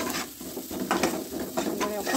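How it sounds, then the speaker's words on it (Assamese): Ground dried fish powder stirred and frying in a hot pan, giving a continuous close sizzle broken by repeated scraping strokes of a spoon against the pan, with no voices. "এতিয়া ইয়াত দি দিম শুকান মাছৰ গুড়ি এক চামুচ"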